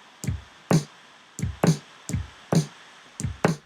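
A drum machine beat plays alone from Ableton Lite's Kit Core 707: deep kick thumps and crisp snare and hat hits in a steady, repeating electronic pattern.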